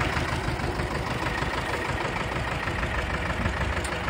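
An Escort 335 tractor's diesel engine idles in a steady, dense rumble, near and constant with no change in pace.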